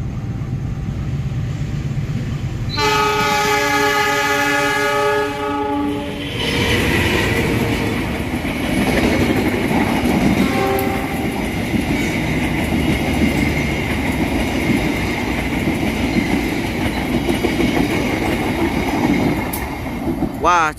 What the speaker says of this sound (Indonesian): Setelah kereta api Cikurai melintas dari jalur 1